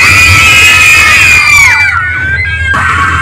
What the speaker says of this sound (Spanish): voy a premiar al niño o niña que me diga, o mejor dicho, que me regale un super grito